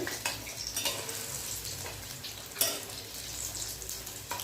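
Pumpkin flowers fry in mustard oil in a pan, a constant close crackling sizzle with a few brief clinks and scrapes of a utensil, no talking.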